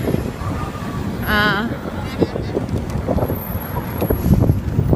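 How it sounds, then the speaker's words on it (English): Wind gusting outdoors buffets the microphone with a steady low rumble across the whole stretch, loud and close, with faint background sounds mixed in. "And I want to get out of the wind."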